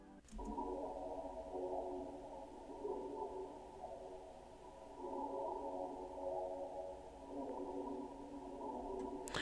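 A reversed, pitched-down vocal chop run through Fruity Flangus for a wavy flanged motion and Valhalla Supermassive reverb, with its low end cut by EQ, forms a soft, steady droning texture sitting in the background of a bouncy R&B beat.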